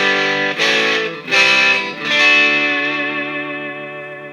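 PRS SE CE 24 electric guitar through the neck pickup with a little reverb, played with an effects-coloured, slightly distorted tone: three strummed chords, each ringing out and fading slowly, alone and fairly loud.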